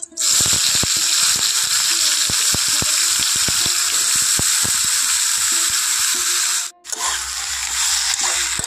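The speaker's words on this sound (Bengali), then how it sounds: "এখন আমি এর মধ্যে দিয়ে দিচ্ছি কেটে রাখা বেগুনগুলো।" Eggplant pieces hit hot mustard oil in a wok and burst into a loud, steady sizzle, with scattered pops and clacks throughout and a brief dip near the end before the frying resumes.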